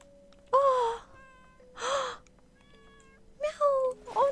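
Cat meows sound in the horror game Layers of Fear, three drawn-out tonal calls spaced apart over quiet background, with a soft musical tone between them.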